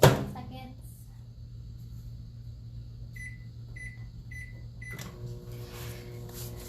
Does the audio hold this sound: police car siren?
no